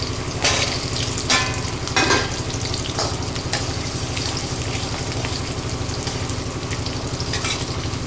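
Onion and garlic fry in a pan for a Tamil garlic kuzhambu, giving a steady, close, loud sizzle throughout, broken by a few brief louder crackles and stirring scrapes, with no talk.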